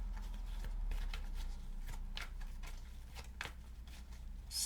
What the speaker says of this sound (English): we're shuffling these cards